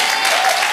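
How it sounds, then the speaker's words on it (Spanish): Church congregation applauds during a sermon, a dense, even wash of many hands clapping, steady and moderately loud for under a second, with no voices on top. "Dar un aplauso al Señor."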